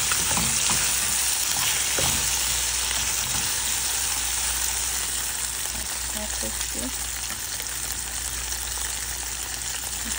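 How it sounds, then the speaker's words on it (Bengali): Spiced okra frying in a pan with onion, chili and cumin gives a steady, dense sizzle that holds for the whole stretch, with a few soft stirring knocks and no voice. "মশলা দিয়ে মাখিয়ে রাখা ভেন্ডিগুলো দিয়ে দিলাম।"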